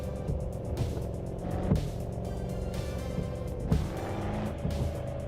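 Continuous road traffic in American Truck Simulator, a steady engine and tyre drone from cars around a truck, with passing swells and a few brief louder bumps.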